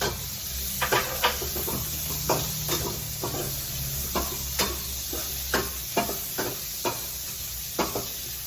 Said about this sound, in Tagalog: Magigisa na tayo mga idol. Unahin na natin itong sibuyas.